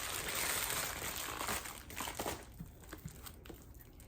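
Serrated plastic shrink wrap being ripped off books, a sustained crinkling tear up close that breaks into scattered crackles and rustles as the wrap comes free.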